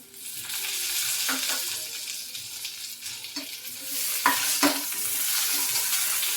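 Tomato frying with onions in a pan for a Hyderabadi dhaba-style paneer gravy, a steady close sizzle with occasional scrapes and clicks from stirring, some louder bursts near the end, and no one speaking.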